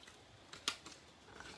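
Stampin' Up! Tis the Season designer series paper is cut with scissors, giving a single sharp, quiet snip among faint rustles of paper in a quiet room.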